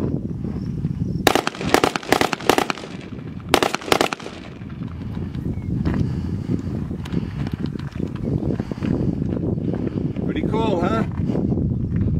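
Gunfire from 7.62 rounds aimed at a parked car: a quick series of loud, sharp cracks in two bursts early on. Outdoor rumble continues afterward, with a few later isolated pops and some faint movement.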